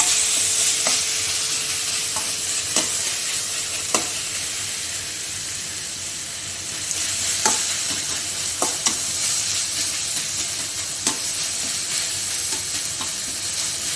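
Prawns fry in a pan for a Kundapura-style coastal prawns sukka, a steady close sizzle with occasional sharp clicks and scrapes of a spatula stirring throughout, no voices.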